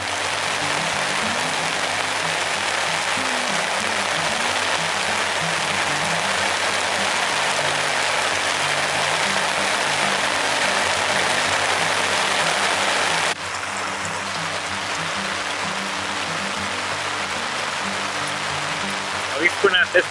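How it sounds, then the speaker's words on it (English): Continuous hiss of steady rain on an RV with a low hum underneath; the downpour drops a little in loudness partway through, with faint clicks near the end. "It's been raining like crazy all day."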